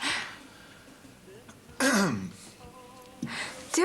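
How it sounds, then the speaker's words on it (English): A person coughs and clears their throat in a few short, loud bursts spread across a quiet room, with brief pauses between them and no talking. "Go on, cough."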